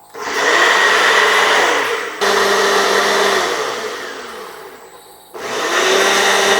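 A blender whirs loudly and close while mixing a protein shake with peanut butter. Three sustained runs of motor roar are separated by brief stops, and the pitch sags as the thick mixture loads the motor.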